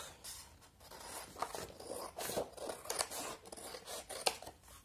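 Scissors cut through grey cardboard with a series of crisp snips and scraping slides, close but quiet, in an uneven rhythm. No one speaks.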